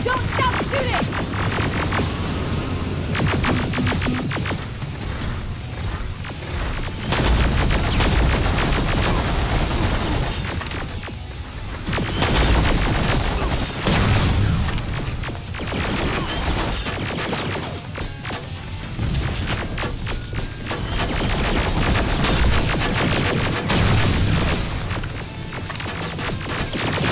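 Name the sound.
gunfire and explosions in video game Terminator: Resistance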